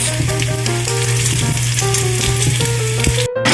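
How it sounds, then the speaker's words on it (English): Bacon frying until golden in a pan for a spicy corn and jalapeño chowder, giving a loud, steady sizzle with crackling pops and a low hum underneath, briefly cut off near the end. "The bacon is almost cooked there."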